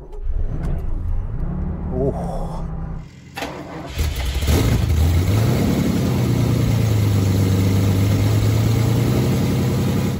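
A Ferrari 512 BBi is started with a conventional key. The starter cranks for a few seconds, then the engine catches with a loud burst and settles into a steady, rumbling idle.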